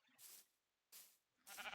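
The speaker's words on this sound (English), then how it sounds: "Sheep!" Three short sheep bleats from the video game Minecraft, each a brief noisy burst spaced roughly half a second apart, moderately loud and heard alone without talk.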